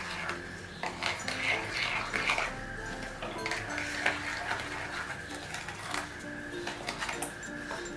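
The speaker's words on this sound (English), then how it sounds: "We are going to give a nice mix." Spoon stirring semolina (suji) batter with baking powder in a bowl for a microwave cake, giving repeated scraping and clinking strokes at close range, with no talking.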